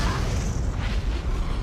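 A bomb goes off in the monster movie Tremors 5: Bloodlines, a loud sustained rumbling blast that fills the whole moment with heavy low roar and crackling debris.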